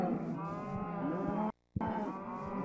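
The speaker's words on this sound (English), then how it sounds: "cows are fucking annoying." Cows in the Minecraft video game moo in a clear, loud, drawn-out call, broken by a brief moment of silence near the end, with no talking.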